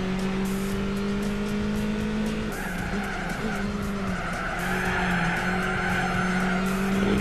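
Tires squealing in a long slide during a Gran Turismo 4 Beetle Cup race at Tsukuba, with a steady droning engine under a sustained screech that wavers and shifts partway through.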